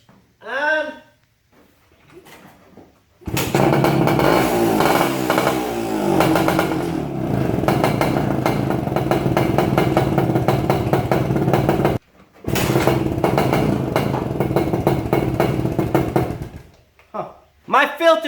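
An old Yamaha enduro motorcycle sitting unused for twenty years kicks over and starts, then runs with a loud, rough, rattling idle and blips of revving, cutting out briefly before catching again, with someone talking before and after.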